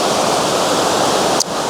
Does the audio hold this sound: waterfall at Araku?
yes